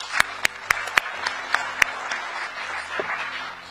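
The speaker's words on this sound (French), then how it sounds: "je vous demande en cette période historique, en ce moment historique, de vous applaudir fortement pour votre présence aujourd'hui" An audience applauds at a speech, a continuous wash of clapping with several sharp, loud individual claps standing out near the start.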